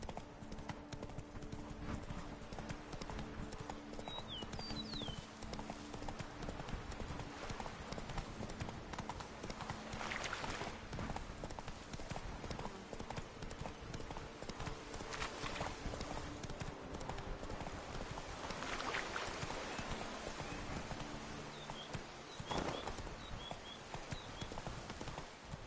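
Horse trotting in the video game The Witcher 3: Wild Hunt, with steady clip-clop hoofbeats running throughout alongside game ambience and a couple of brief whinnies, with no talking.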